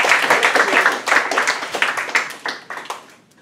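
A classroom of students applauds together in a brisk burst of clapping that fades out after a few seconds.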